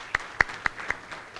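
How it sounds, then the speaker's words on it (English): An audience gives several sharp, separate claps in quick succession, faint and sparse, the start of a round of applause in a hall. "So please give a big round of applause for our graduate admissions office"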